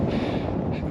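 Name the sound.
wind blowing on a high mountain trail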